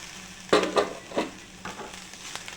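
Carrot and rice mixture with chopped coriander frying in a pan, with a few distinct stirring scrapes and sizzling bursts over a steady low hiss, close by and no talking.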